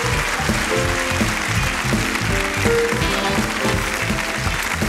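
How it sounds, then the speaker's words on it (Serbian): Studio audience on a TV dating talk show claps for an arriving guest, a steady, dense wash of applause that holds for the whole stretch with faint musical tones beneath. "Molim vas, aplauz za Dženanu."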